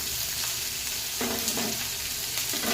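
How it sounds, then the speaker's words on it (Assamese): Chopped onion frying in hot oil with cumin and mustard seeds, a steady bright sizzle throughout with louder bursts of crackling as it is stirred in the pan, close and without talk. "আৰু এতিয়া দিম পিঁয়াজ সৰু সৰুকৈ কাটি থৈছোঁ"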